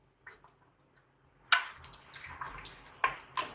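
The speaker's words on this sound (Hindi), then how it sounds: "और 1 कप पानी डालेंगे।" A cup of beef stock water is poured into a cooking pot of mutton makhni handi, with a few soft drips first, then close splashing and sloshing bursts over a quiet kitchen background.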